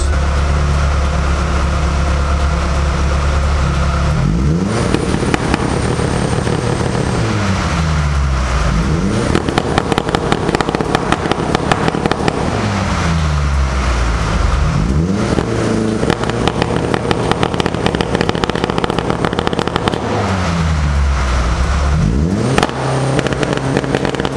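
A car engine idles and revs repeatedly while warming up, loud and close, with several rising and falling rev cycles over a steady running drone.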